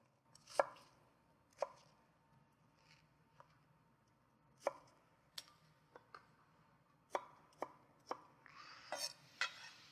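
A kitchen knife slicing food into half-inch pieces on a cutting board, sharp isolated taps spaced irregularly at first, then coming quicker in a closer cluster toward the end, crisp and near against a quiet room.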